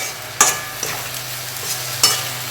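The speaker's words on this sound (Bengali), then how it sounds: "দেখুন পেঁয়াজটা কিন্তু আমাদের অনেকটা ভাজা হয়ে এসছে।" Onions fry in a pan with a steady sizzle while a spatula scrapes and stirs in two sharp strokes, close and fairly loud, with no talk.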